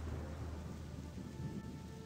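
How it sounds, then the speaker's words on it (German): Steady thunderstorm rain pours down with a low thunder rumble rolling underneath, a dense continuous wash of sound with no voices. "An sich, ich mag Gewitter."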